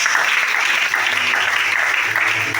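Congregation at a Sunday church service in Libreville, Gabon, applauding steadily and loudly for the whole stretch, a dense continuous wash of clapping with no pauses.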